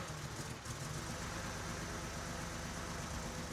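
A car engine idles steadily with a low, continuous rumble and no talking.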